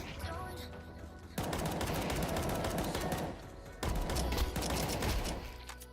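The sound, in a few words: gunfire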